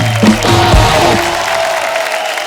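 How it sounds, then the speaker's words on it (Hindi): Studio audience on The Kapil Sharma Show giving a short burst of clapping and cheering for arriving guests, loud at first and tapering off, with a brief voice over the start. "जोरदार तालियां गायत्री और पुष्कर के लिए"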